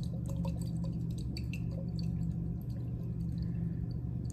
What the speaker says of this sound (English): get it set up so we get these little drippy drips going on